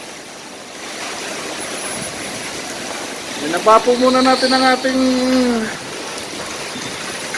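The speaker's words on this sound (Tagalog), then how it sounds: "Lumakas po yung ulan. Na may kasama pang hangin." Heavy rain driven by wind keeps up a steady, hissing wash during a UAE sand and rain storm while someone talks loudly close by.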